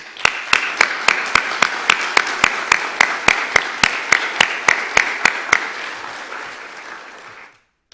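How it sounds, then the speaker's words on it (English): Audience applause fills a hall at an athletic hall of fame banquet, loud and sustained, with one close clapper beating sharp, regular claps through the sound before it fades and stops near the end. "please give this man a round of applause"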